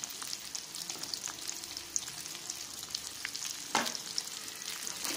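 A gongura mixture fries with turmeric in a pan, giving a soft, steady sizzle with occasional stirring clicks and one sharper scrape partway through. The sound is quiet and has no speech.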